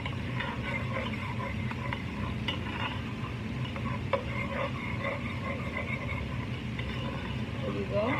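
Whole spices fry in a pan for paneer makhni, a steady close sizzle with faint stirring and occasional scrapes running under the whole stretch.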